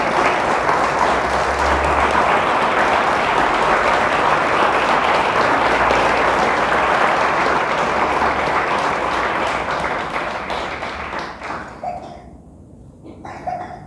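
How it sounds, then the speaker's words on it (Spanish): Church congregation giving a sustained, loud round of applause to God during a Spanish-language sermon, dense clapping lasting about eleven seconds before thinning out and fading, with a few scattered claps at the end. "Le damos un fuerte aplauso a Dios por eso."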